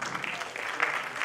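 Applause from an audience at an international film award ceremony, a soft steady wash of clapping heard from a distance.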